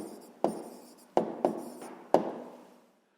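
A pen writes an answer by hand on paper during a math exercise, with four distinct scratchy strokes, each starting sharply and trailing off, close and fairly quiet.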